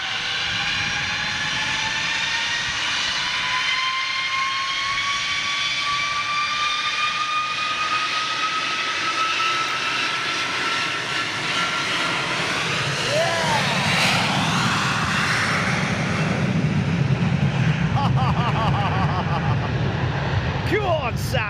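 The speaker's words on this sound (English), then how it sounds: "Long spool up." A big jet's engines spool up at length, rising whine tones climbing over a broad roar that grows louder and thicker toward the end, with people talking excitedly over it.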